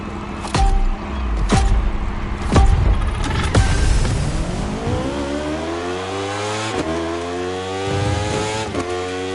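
Racing motorcycle engine in The Crew Motorfest game, loud and close, revving hard with sharp gear-shift cuts and a rising whine, then settling into a steady high drone. No talk over it.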